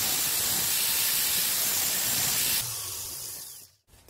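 A 10 mm round steel bar being cut, a loud continuous broadband grinding hiss lasting about two and a half seconds, then easing off and fading out.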